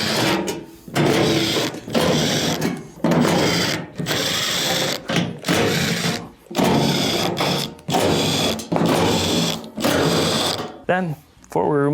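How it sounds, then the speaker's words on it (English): A power driver removes the screws around the perimeter of a washer being repaired for a burning smell from stator assembly trouble. It whirs in about eight short, close bursts separated by brief pauses. "Then we'll go around and remove all the screws."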